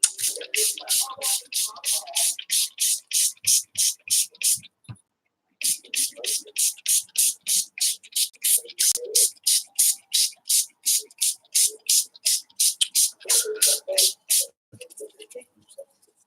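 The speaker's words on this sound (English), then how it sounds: "this spray bottle is the slow sprayer" Rapid, evenly spaced spritzes from a slow-spraying spray bottle onto tissue repeat in a long run with one short pause, while faint voices murmur underneath.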